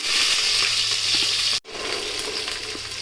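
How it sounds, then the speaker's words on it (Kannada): Spices spluttering in hot oil for a tempering, a steady loud crackling sizzle broken by a brief pause, then resuming. "ಸ್ವಲ್ಪ ಚಿಟಪಟ ಆಗಲಿ ಸಾಕು"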